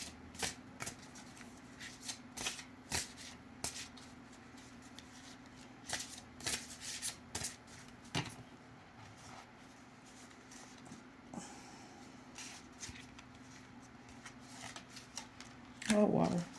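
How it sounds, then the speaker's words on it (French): A deck of oracle cards is shuffled close by in a series of soft, irregular riffling flutters, heard quietly over a faint steady hum, with a brief louder rustle at the end. "on va demander aux animaux de pouvoir divin une carte aujourd'hui, une seule."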